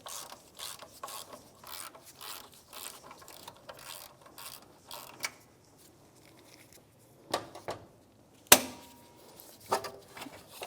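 Ratchet clicking as a 13mm socket backs a bolt off the alternator bracket area of a 1992-1996 Ford F-150 during exhaust manifold work, bursts of quick metallic clicks with a sharp clank near the end.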